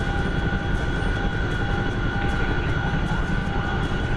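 A Chinook helicopter flies in a video game, its steady engine drone and rotor chop loud and constant throughout, with a faint rhythmic beating and thin tonal whine, no talk.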